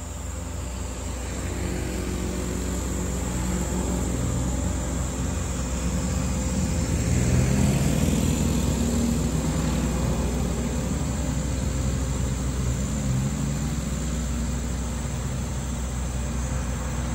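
Truck engine labouring and revving as it climbs a steep hill, a continuous loud low drone that swells in the middle and holds steady, with no talk.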